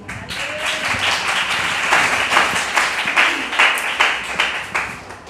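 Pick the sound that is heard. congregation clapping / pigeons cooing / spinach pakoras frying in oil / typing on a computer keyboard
congregation clapping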